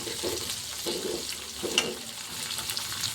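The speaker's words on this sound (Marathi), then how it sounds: "तर चला आता टाकू आपण आपला कांदा, कांद्याला पण हलवून घ्यायचं आपल्याला।" Onion is fried and stirred in a pan, giving a quiet, close sizzle with a few soft scraping strokes over about three seconds.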